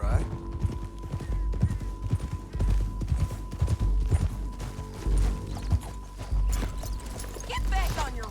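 Horse hooves clip-clop steadily in Red Dead Redemption 2, the in-game horse walking at a close, even rhythm, with occasional snorts and a voice talking over the hoofbeats against a low ambient rumble.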